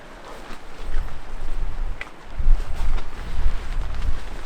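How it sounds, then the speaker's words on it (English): Gusty wind buffets the microphone outdoors in the Wyoming mountains while a tent is being pitched, rising and falling in loud rumbling surges with no talk. "It's a little windy, so I need to do that."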